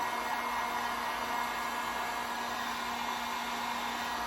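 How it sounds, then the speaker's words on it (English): A heat gun blows hot air to dry water-based blue paint on a kitchen decor piece. It gives a steady, close, uninterrupted rushing roar with a faint hum underneath and no pauses. There is no talking. "I am going to hit it with the heat gun"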